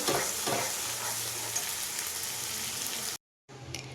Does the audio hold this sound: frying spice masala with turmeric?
yes